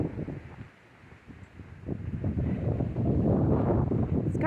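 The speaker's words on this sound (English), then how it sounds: "We literally are having a blizzard." Blizzard wind blows outdoors on a farm in winter, rumbling and buffeting against the microphone and growing stronger and steadier toward the end.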